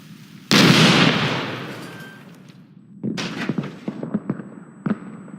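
Grenade detonation in the Iraq war shooter Six Days in Fallujah: one loud, close blast that rings out and fades over a couple of seconds, followed by a scatter of sharp pops and cracks.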